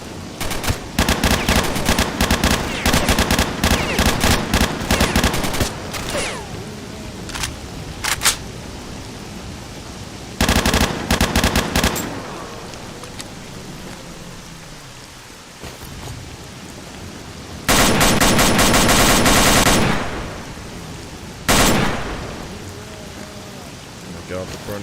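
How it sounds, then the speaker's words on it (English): Gunfire from enemies in the video game S.T.A.L.K.E.R.: Shadow of Chernobyl, loud bursts of rapid shots in several separate volleys with quieter gaps between them. "Oh my god, the burning people shoot."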